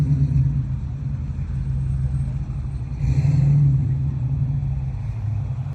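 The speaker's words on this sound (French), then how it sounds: "450 SEL 6 litres 9 qui arrive tranquillement, vert foncé" A dark green Mercedes 450 SEL 6.9 V8 arrives slowly, a deep steady engine rumble that swells briefly as it rolls closer, heard outdoors in a square.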